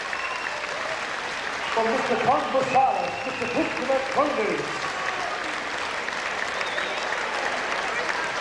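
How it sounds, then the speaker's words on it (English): A crowd at a kickboxing event applauds steadily while an announcer's amplified voice calls out over the clapping, which rises in the middle and carries on beneath the speech. "Come on, a big round of applause"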